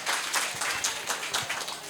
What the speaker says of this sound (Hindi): जब फ्री राइड्स मिलेगी वो भी नहीं ताली बजाएंगे?